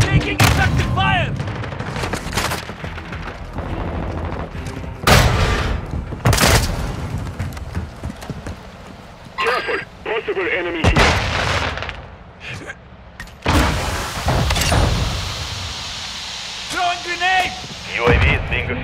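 Gunfire and artillery from the Call of Duty: Modern Warfare II video game fill the scene with dense bursts of automatic fire and heavy booming blasts. Radio-style voices call out through the barrage.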